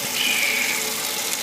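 A Stardust CE5 clearomizer part is rinsed under a running sink tap, giving a steady, close hiss of flowing water that continues without a break.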